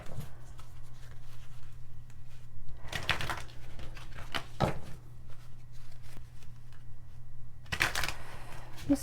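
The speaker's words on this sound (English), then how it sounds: "I'm feeling called to shuffle today." A traditional tarot deck is shuffled in a few quick riffling bursts separated by quiet pauses, close and fairly soft over a faint background hum.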